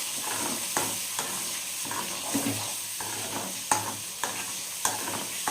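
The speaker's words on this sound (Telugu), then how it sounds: "ఫ్రై చేసుకున్నవన్నీ అదంతా వేసేయాలి. వేసేసి ఒకసారి కలుపుకుందాం" A fried ground paste being stirred into curry in a pan, a steady sizzle with repeated scraping strokes of the spoon at an even rhythm, close and alone with no voices.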